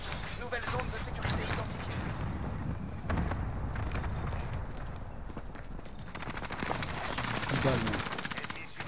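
Dense automatic gunfire and explosions in the video game Call of Duty Modern Warfare on Rebirth Island, continuous bursts of rapid shots with game interface beeps, while players talk over the battle.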